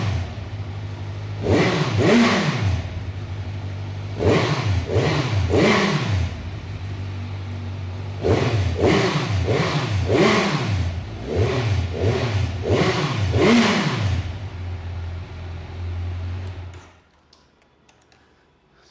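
A Kawasaki Z900 Limited Edition with its stock twin-side exhaust revs repeatedly to around 3,000 rpm, each blip rising and falling over a steady idle, in clustered groups of three to four, close and fairly loud, before the engine cuts off.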